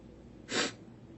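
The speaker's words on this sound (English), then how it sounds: "Got a little bit of the sniffles" A single short, faint sniff through the nose, brief and breathy against quiet background.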